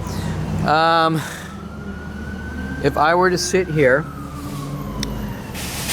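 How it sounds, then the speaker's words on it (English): A fire truck or ambulance siren sweeps past nearby, its rising and falling wail cutting in loudly over steady traffic rumble while someone talks over it. "I'm waiting for this annoying fire truck, ambulance"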